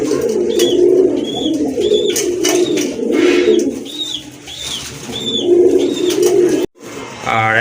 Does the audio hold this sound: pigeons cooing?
yes